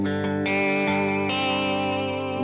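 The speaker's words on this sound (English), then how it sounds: "Here's the vibrato pedal." Electric guitar chords played a few times through a vibrato pedal, with a wavering, pitch-wobbling shimmer that gives the sustained notes a gentle pulsing movement.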